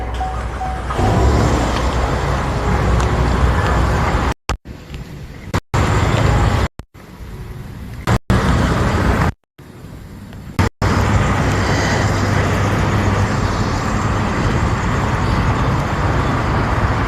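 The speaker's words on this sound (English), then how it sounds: "I'm listening to this traffic." Continuous road traffic passes outside an apartment, a steady broadband rumble of cars and heavier vehicles, interrupted by several brief dropouts into near silence before the roar resumes.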